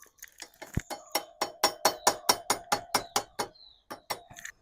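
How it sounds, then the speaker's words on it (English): A hammer strikes a small drift to punch the pin from a Royal Enfield Himalayan 450 brake caliper, a close, steady run of about fifteen sharp metallic taps in quick, even rhythm, with a few lighter clinks at the end. "I'm going to grab a hammer and a little tiny drift or a tiny screwdriver, and I'm going to punch this"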